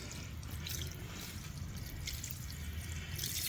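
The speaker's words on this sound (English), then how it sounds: "And then we just pour water on it," Water poured onto a packed, water-activated asphalt patch on a hangar floor, a steady close splashing trickle that runs continuously and evenly throughout.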